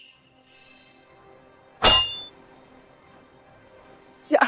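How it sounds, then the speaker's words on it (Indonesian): A single bright metallic clang rings out from a martial-arts drama's golden bell technique, followed by a shorter struck ring near the end; faint tones and quiet background between the hits. "Ini jurus lonceng emas Daxia"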